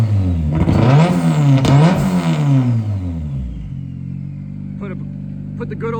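A Mazda FC RX7 rotary engine, rebuilt and running on a Link ECU, revs up loudly and close by, then settles into a steady, burbling idle.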